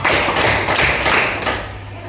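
A class claps in a counting game pattern, a short cluster of broadband hand claps in quick succession, close and fairly loud in a classroom.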